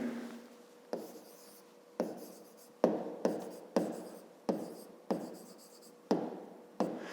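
A pen writes by hand on paper during a fifth-grade maths exercise, quiet close scratching strokes starting with sharp taps, repeated about once a second in a steady rhythm.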